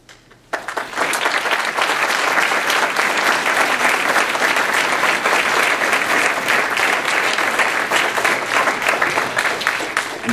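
Sustained, dense applause from a large audience at an engineering lecture event, starting abruptly and holding steady and loud for about ten seconds.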